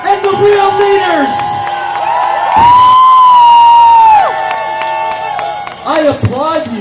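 A crowd at a freedom rally in Fredericton, New Brunswick cheers, whoops and claps loudly and close, with high shouts and sustained whistle-like cries rising and falling over several seconds.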